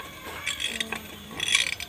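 Electric clothes iron's thermostat being adjusted at the pressing part, giving small faint mechanical clicks and clinks, close up and brief, over a quiet background.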